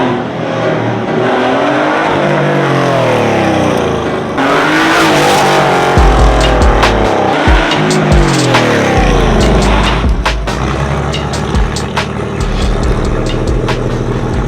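A Porsche 964 engine revving hard and pulling through rising gears, loud and close, with a sweeping roar that climbs, drops at each shift and climbs again.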